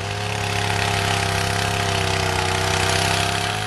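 A water-cooled rock drill bores into stone, a steady loud mechanical drone with a rapid pulsing hammer-like rhythm and a continuous hum, heard alone and up close.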